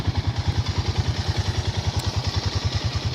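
A Jeep Rubicon four-wheeler with its factory exhaust idles quietly nearby, a steady, even low pulsing thrum that is fairly soft and runs alone without voices.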